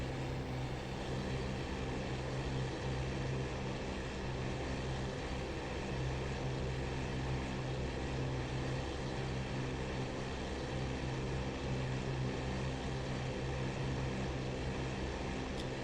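Simulated Fw 190 D-9 propeller fighter climbing at continuous power after takeoff, a steady droning engine hum with an even tone and no pauses, moderately quiet throughout.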